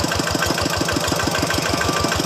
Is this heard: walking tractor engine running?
yes